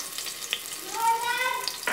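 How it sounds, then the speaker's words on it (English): Onions for biryani sizzle and crackle in a hot pan, a close frying hiss with brief pops and a rising tonal squeal from the pan, and no speech. "So what we're going to do is we're going to fry the onions."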